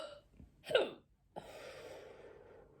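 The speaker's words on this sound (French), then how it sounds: "j'ai le hoquet" A woman's sharp hiccup rings out close by, after a small breathy catch, with quiet room noise following and no speech.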